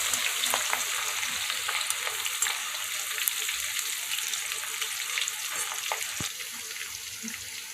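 Garlic frying in hot oil for chivda, a continuous crackling sizzle with occasional stirring clicks, close and steady throughout with no one speaking.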